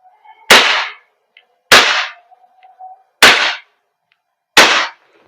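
A WE Glock 17 Gen 5 gas blowback airsoft pistol fires four sharp, loud, close shots about a second apart, each a crisp crack with a short tail, and no talking.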